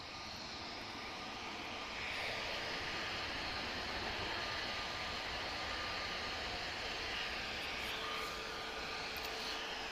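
An Airbus A330neo taxis at Lisbon Airport, its engines producing a steady, broad roar that holds constant and slightly swells after the first couple of seconds, heard from a distance without talk.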